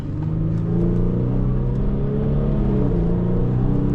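Tuned Infiniti G37 pulling hard under acceleration, a steady loud engine drone with rising harmonic tones throughout, heard from inside the car with no talk.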